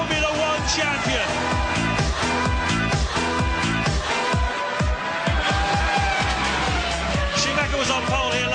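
Michael Schumacher's Ferrari Formula One car on a qualifying lap, a loud high-revving engine whine rising and shifting through gears steadily throughout, close and unbroken.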